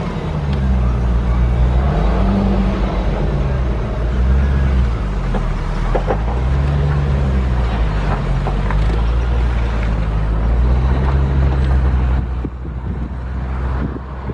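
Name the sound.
2004 Chevy Corvette accelerating through gears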